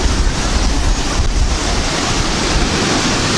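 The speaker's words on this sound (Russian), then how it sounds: "Какие волны, нифига." Sea surf rolls onto a beach near a seaside promenade in Rauschen, a loud continuous wash of breaking waves mixed with heavy wind buffeting the microphone, with no voices.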